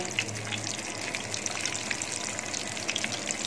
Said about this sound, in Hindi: अब हम इसके अंदर ये चाँपें डालना शुरू करेंगे और इनको फ्राई करेंगे